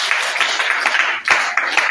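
A church congregation applauds together, a brisk patter of many hands clapping, close and steady with a few sharper accents, no voices over it.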